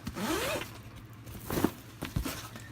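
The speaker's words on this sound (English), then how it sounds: "Just unzip this here." The zipper on a pepper plant grow tent is pulled open in a few quick, scratchy strokes, close and fairly quiet against a faint background.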